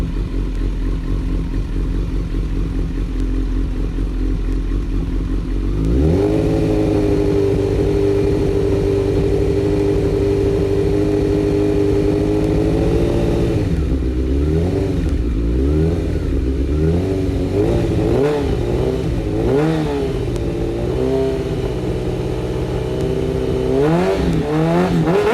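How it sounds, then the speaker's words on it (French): A GEX K3 motorcycle fitted with a Chinese aftermarket exhaust silencer idles steadily, then takes repeated throttle blips, the engine revving up and falling back in several sharp bursts, loud and close with no talking. "On va mettre un petit peu des coups d'accélérateur pour voir ce que ça donne."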